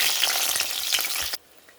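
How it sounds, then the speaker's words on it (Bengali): Eggplant frying in hot oil gives a loud, close, continuous sizzle with a few soft stirring taps, then cuts off abruptly into near silence just before the end. "এবার আমি এই সবজিগুলোকে সব ভেজে নেব। প্রথমে একটু বেগুনটা ভেজে তুলে রাখবো।"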